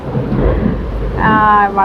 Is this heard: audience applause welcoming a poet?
no